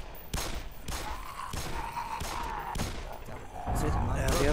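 Gunfire in the video game Black Mesa, a Half-Life remake: a handful of sharp, loud shots spaced about half a second apart over steady in-game background noise, with busier firing near the end.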